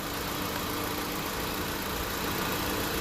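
A Honda Civic engine runs steadily with its AC compressor clutch engaged and spinning, giving a continuous, even mechanical hum and whir at close range with no talking.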